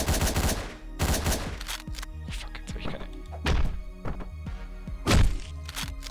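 Gunshots in the top-down shooter Hotline Miami: sharp, loud bursts of gunfire hit irregularly, some in quick clusters, over game music and someone talking.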